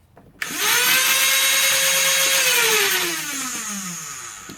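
A Stryfe blaster's flywheel rev system spins up with a sharp whine, holds a smooth high motor hum close by, then winds down as the pitch slowly drops.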